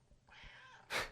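A house cat gives a short, quiet meow-like vocalization, a brief breathy cry ending in a sharper burst, heard alone and close.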